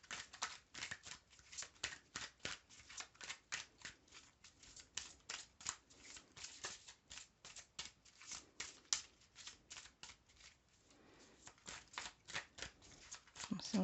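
Tarot cards being shuffled and drawn, rapid soft riffling flicks in quick irregular bursts close by and faint, with a voice speaking quietly at moments.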